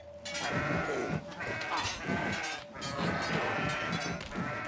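A herd of goats in the video game Kenshi keeps up a dense, continuous chorus of loud overlapping bleats for several seconds, without speech.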